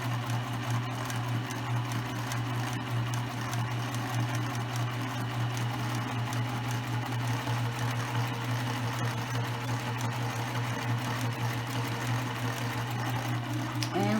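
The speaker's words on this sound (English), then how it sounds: "I'm gonna move it back and manually do another stitch here and pivot and continue to sew straight down." A sewing machine runs steadily while stitching a tote bag, a continuous close mechanical whir with a fast even needle rhythm lasting the whole stretch, with no talking.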